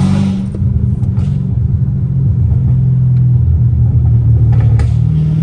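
A Dodge Hellcat Redeye with a catless catback exhaust gives a loud, deep, steady engine rumble under load from close by, with a faint supercharger whine on top.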